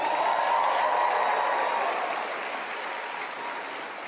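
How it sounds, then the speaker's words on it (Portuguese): Sustained applause from a large crowd at a rally, a dense, loud wash of clapping that fades slightly toward the end. "Então vamos aplaudir o Charlie Kirk,"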